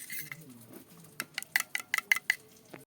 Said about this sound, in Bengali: আমি ভালো করে একটু মিশিয়ে নেব এরকমভাবে ঠিক মিশিয়ে নিতে হবে দইয়ের সঙ্গে ময়দাটা